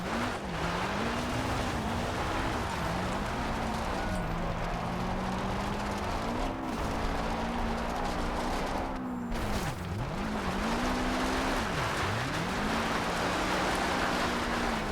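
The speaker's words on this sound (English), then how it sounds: "literally just go ahead and four-wheel drift this" A Subaru Impreza rally car four-wheel drifts in Forza Horizon 2, its engine note droning and wavering continuously as revs rise and dip, with tyre scrub and gravel noise filling the background throughout.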